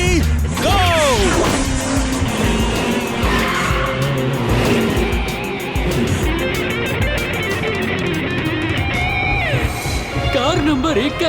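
Cartoon race cars skid with squealing tires and revving engines, loud and busy, with crash-like thuds and excited speech over the racket.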